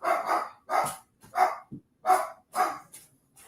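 A dog barks nearby in a run of about six sharp, evenly spaced barks with brief quiet gaps, loud and clear with no talk over them.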